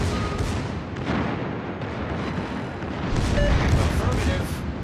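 Heavy naval gunfire from the German battleship Bismarck in the naval combat game World of Warships, loud rumbling booms rolling over a constant dense background of battle noise, with a stronger burst toward the end.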